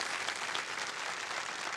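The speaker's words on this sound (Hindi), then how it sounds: "आपको हम प्रणाम करते हैं और ताली बजाते हैं आपके लिए" Steady studio audience applause on a Kaun Banega Crorepati game show set, a dense, even wash of many hands clapping without a break, fairly loud and with no talk over it.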